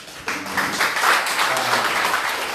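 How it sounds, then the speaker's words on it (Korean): An audience at a political party leadership candidates' question-and-answer session breaks into steady, dense applause that holds at an even level after a brief quiet start. "우리 그 네 분의 좋은 질문에 우선 뜨거운 박수 한번 부탁드리고요."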